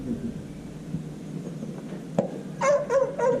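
A dog at a match in Compiègne gives a few short barks near the end, loud and close, after a stretch of low background murmur.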